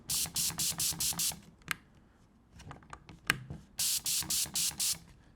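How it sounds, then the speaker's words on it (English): An iK Multi/Foam Pro 2.0 pump sprayer being pumped up by hand, with bursts of rapid, rhythmic airy pump strokes, a pause with scattered clicks and knocks, then another run of strokes. "you guys can see how long it takes to pump this thing up"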